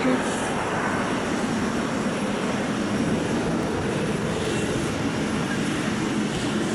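A loud, sustained jet engine roar of an airliner's reverse thrust on landing at Haneda Airport, a broad windy rush that stays strong and steady throughout, heard without any voices.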